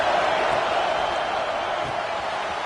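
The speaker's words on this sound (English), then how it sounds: "This crowd ready to make its presence known." A stadium crowd in the college football game NCAA 25, a steady, dense roar of cheering voices that holds at an even, loud level throughout.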